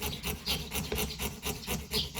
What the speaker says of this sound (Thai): พยายามเลื่อยให้ตรง